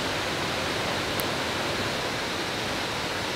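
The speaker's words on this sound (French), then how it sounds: "il y a une cascade là-bas" A waterfall roars as a constant broadband rush of falling water, steady and fairly loud, with no pauses or voices across the few seconds.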